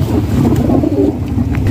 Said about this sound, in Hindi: ये जी बिल्ला कासद कबूतर है, ये भी साथ जाएगा